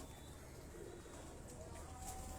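Teddy-breed pigeons with red eyes coo softly in a quiet, steady murmur, faint and close, with no voices over them.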